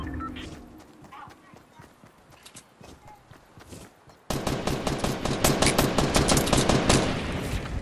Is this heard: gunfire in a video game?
yes